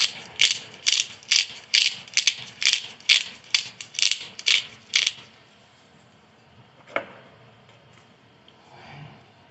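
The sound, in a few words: grinding black pepper with a pepper grinder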